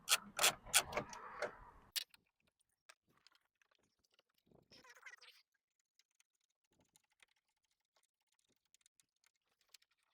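Impact tool with a 13 mm socket on an extension loosening the battery hold-down bracket bolt of a 2019-2024 Chevrolet Silverado: a short burst of rapid loud clatter, then faint clicks and a brief rattle nearby.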